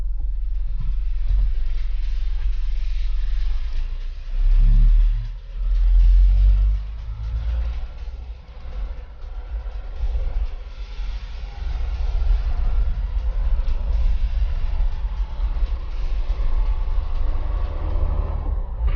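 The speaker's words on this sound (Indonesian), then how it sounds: "saat ini saya sedang mencoba berkendara menggunakan Canter Euro 4" A 2022 Mitsubishi Canter Euro 4 truck engine drones steadily while driving, a continuous low rumble with small swells in load and no talk over it.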